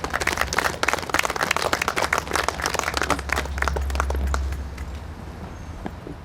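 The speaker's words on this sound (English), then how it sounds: "Would you give her a round of applause as well?" Audience applause at an outdoor Rice Park ceremony honours a Rice Park Association member: dense, steady clapping from a crowd that holds for about five seconds, then thins and fades out over a low background hum.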